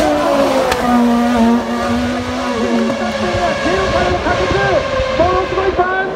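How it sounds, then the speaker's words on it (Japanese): Formula 1 car revving hard through a burnout on a Tokyo street course, with loud, wavering engine howls and rapid pitch swings that build over several seconds. "ピエール・ガスリーも今ゼロスタートからものすごいバーンアウトでピットの前に戻ってくる"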